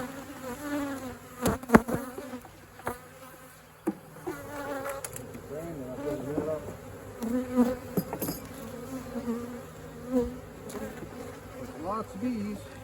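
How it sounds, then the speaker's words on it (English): Honey bees buzz steadily around an open hive during a garden requeening, a dense droning swarm close by with occasional louder passes and faint knocks, no voices. "Lots of bees."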